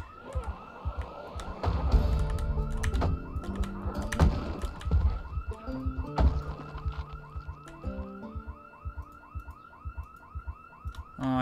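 A car alarm goes off in the zombie survival video game Project Zomboid, its looping wail repeating steadily and loudly throughout over low thumping game sounds, with no one speaking.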